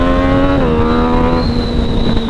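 A remapped motorcycle fitted with a stainless steel exhaust tip is revved on its stand, giving a loud, close, raspy engine note whose pitch climbs and then holds, with no talking.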